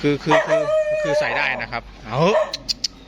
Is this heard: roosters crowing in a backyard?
no